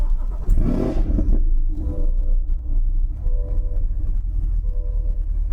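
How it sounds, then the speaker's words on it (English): A 2020 Chevrolet Corvette C8 engine fires up with a sharp starter burst and loud rev, then settles into a deep, steady rumbling idle, close and alone. "hit the button to start, and you'll hear this incredible engine roar to life"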